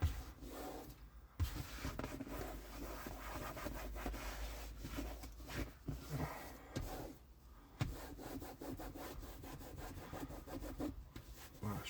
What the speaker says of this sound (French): je frotte un peu pour enlever l'excédent de produit